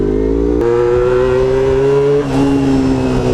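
A loud Honda RVF 400cc motorcycle engine runs steadily up close, its rumbling tone rising slightly and shifting pitch partway through as it revs.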